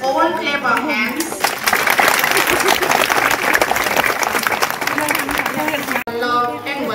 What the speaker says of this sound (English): Let us all clap our hands.